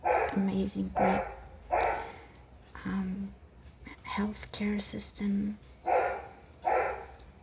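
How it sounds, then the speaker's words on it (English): A dog barks repeatedly outdoors in short bursts, heard in the background beneath a close, soft whispering voice. "I'm sorry for the dog outside."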